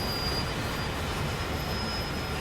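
Train wheels squealing in the Train Sim World 3 video game on an aggregates freight run, a continuous harsh high-pitched screech over loud rumbling rail noise, steady and close throughout with no talking.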